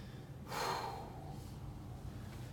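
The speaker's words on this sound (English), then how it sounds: "Oh, the breathing." A person doing a breathing exercise takes one loud, sharp breath that fades into a softer exhale, followed by quiet.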